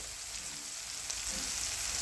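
Upma fries in a pan as green peas are tipped in, giving a steady close hiss and sizzle with a faint soft stir, no voices.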